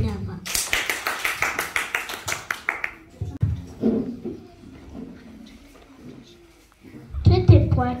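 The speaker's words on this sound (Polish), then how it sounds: "Wielkie brawa." Audience applause for a children's dance group at a preschool nativity show, bursts of many hands clapping at the start and again near the end, with voices and an announcer talking between them.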